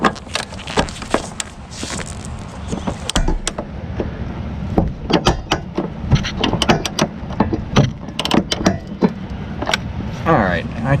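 Ratchet with an extension loosening bolts on the rear suspension of a 2019 Mustang GT during a lowering-spring install, heard as close, loud bursts of metallic clicking in uneven runs with clanks and handling noise throughout.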